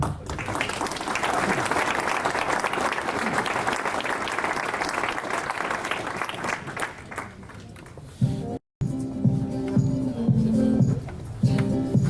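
A crowd at a mayor's New Year's reception in a lycée hall claps steadily for about eight seconds, then the sound cuts briefly and music with held tones and rhythmic notes follows.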